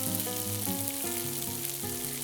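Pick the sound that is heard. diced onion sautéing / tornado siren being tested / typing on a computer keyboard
diced onion sautéing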